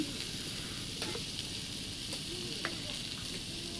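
Potatoes and chickpeas frying lightly in a pan give a steady, soft sizzle, with occasional scrapes and stirring clicks close by and no talk over it.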